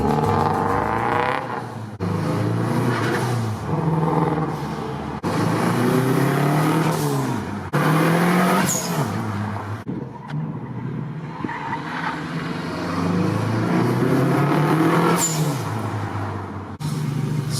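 Freshly tuned car driving with its engine running loud and close, rising and falling in pitch through repeated acceleration and gear changes, with no talking over it.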